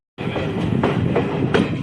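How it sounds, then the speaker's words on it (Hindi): The Amritsar-Haridwar Jan Shatabdi Express rumbles steadily and loudly as it arrives at Ambala Cantt railway station, with rhythmic clickety-clack of wheels over rail joints and a broad rolling roar throughout. "अम्बाला कैंट रेलवे स्टेशन पर अराइविंग होती हुई अमृतसर हरिद्वार जनशताब्दी"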